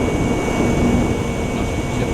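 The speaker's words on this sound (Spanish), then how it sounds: "Entra en funcionamiento su ventilador. Os voy a acercar el micro ahí para que escuchéis." A small cooling fan inside an AEG LT20 battery charger runs with a steady, even whir close to the microphone, a continuous broadband hum with no pauses.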